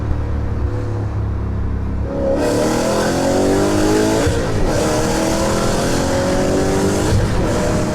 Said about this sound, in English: you can drive the car very enthusiastically and hear the sporty nature of the vehicle